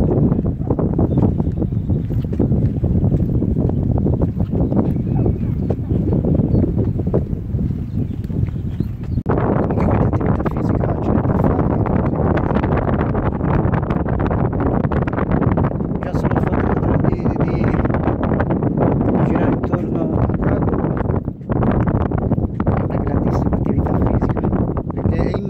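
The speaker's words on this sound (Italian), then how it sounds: "il vento, essendo che siamo proprio nel mezzo al lago" Steady wind out in the middle of Lago di Vagli buffets the microphone with a continuous broadband rush for the whole stretch, while a person talks throughout.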